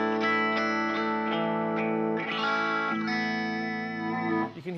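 Sustained guitar chords ring out clean and bright through a Vox amp at low volume, each strum decaying smoothly before the next, with a soft flurry of notes near the end.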